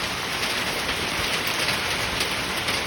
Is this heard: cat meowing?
no